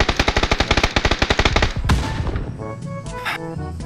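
Rapid automatic gunfire in a video game, a fast steady burst of shots for about two seconds that then gives way to a rumbling, echoing tail with scattered clatter.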